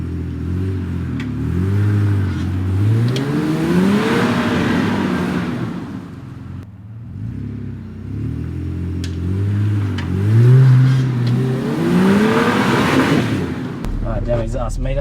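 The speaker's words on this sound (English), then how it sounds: "The problem we got here is the car's trying to climb the front and the back at the same time." A Nissan Patrol engine revs hard off-road as the 4x4 climbs a tricky obstacle on old tracks, rising and falling in two long surging bursts up close, with a heavy thump near the end.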